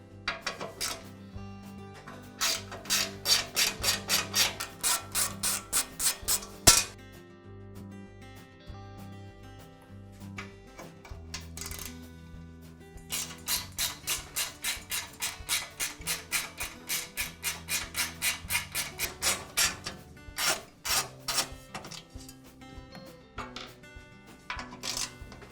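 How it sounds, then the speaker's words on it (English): Top cover coming off a DeWALT air compressor during a check valve repair, heard as two long bursts of quick, close rattling clicks with a quieter pause between them and no talking. "I'll begin by removing the top cover from the compressor."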